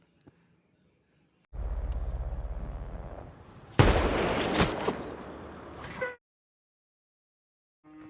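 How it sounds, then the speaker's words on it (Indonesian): Sudden gunfire from an Iraqi sniper's surprise attack in the war film American Sniper: a sustained rush of loud shots and blasts, with one sharp crack standing out, then silence. "Tiba-tiba tentara Amerika dikejutkan dengan serangan mendadak yang dilakukan oleh sniper Irak."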